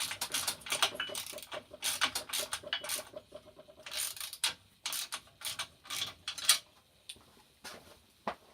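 A ratchet wrench tightens the bolts on an MGF Hydragas to coil spring conversion kit, with bursts of rapid clicking strokes separated by short pauses, close and crisp, with no talk.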